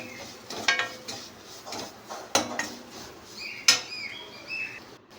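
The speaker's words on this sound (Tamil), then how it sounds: "நல்லா எண்ணெயில் வதக்கி விட்டுடலாம்." Ingredients are sautéed in oil in a pan for black urad dal powder rice, with soft clinks of a spoon against the metal and a faint sizzle underneath, close and intermittent.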